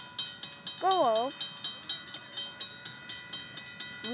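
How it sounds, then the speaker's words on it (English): A train on the Irvine Park railroad rolls past with a steady, rhythmic clickety-clack of wheels over rail joints. A brief wavering voice rises over it partway through. "Come on, the train's already passed."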